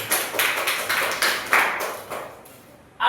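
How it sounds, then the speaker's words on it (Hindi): A classroom of students claps together in a quick run of sharp, evenly spaced claps, close and loud, fading out before one last clap at the end. "ताली बजाइए एक बार के"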